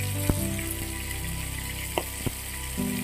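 Radhuni seeds drop into hot mustard oil for tempering greens, giving a close, steady crackling sizzle with a few sharp pops and knocks of a utensil on the pan, no voices.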